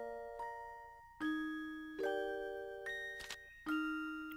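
Door chime in the Professor Layton video game, ringing as a series of clear, ringing bell-like tones that strike one after another and sustain, each new chime overlapping the last, alone without speech.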